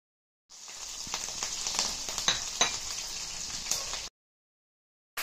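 Green chillies drop into hot oil with dried red chillies and sizzle loudly at close range, a bright crackling hiss with a few sharp pops, ending abruptly after about four seconds.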